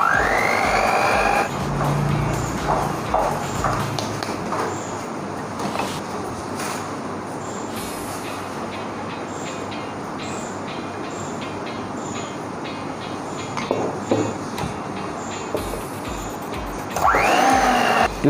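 An electric mixer whirs steadily through cake batter for cupcakes, a continuous motor drone with brief clinks and shifts in pitch near the start and end.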